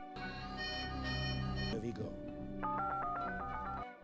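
A telephone dialed to call a friend during a quiz show, heard as a loud run of steady tones and then a quick rhythmic series of short dialing beeps, with a sustained musical tone underneath.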